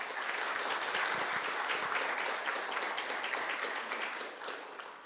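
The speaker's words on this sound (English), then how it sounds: "So how about a big round of applause for all those people?" Sustained applause from the audience at a guide dog school graduation ceremony, a broad steady roar of many hands that tapers slightly at the end.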